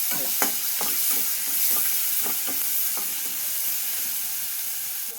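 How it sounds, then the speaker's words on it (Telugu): Pieces of a small tomato frying in a pan for sabudana khichdi sizzle loudly and constantly, broken by a series of sharp scraping strokes from stirring, with no voices. "టమాటా ముక్కలు ఒక చిన్న టమాటా వేస్తున్నాను వేసి కొంచెం ఫ్రై చేసుకుందాం"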